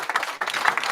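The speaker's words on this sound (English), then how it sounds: "Round of applause." Brief burst of applause from an audience at a young chef award final, dense overlapping hand claps, moderately loud and continuous for under a second.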